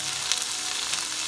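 Mahi mahi fillets dusted with turmeric and Caribbean jerk seasoning sauté in a hot pan, giving off a steady, close, continuous sizzle with faint crackles and no talking.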